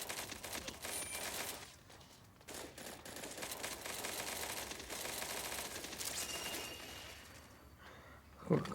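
Rapid SMG fire in the online shooter Bullet Angel, sustained bursts of light, fast shots filling most of the stretch with a short lull near the middle and a sharp spike at the end.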